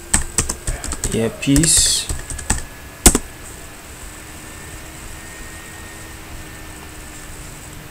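Fingers type on a computer keyboard in a quick burst of clicky keystrokes. A voice speaks over the typing, and then only a faint steady hum remains.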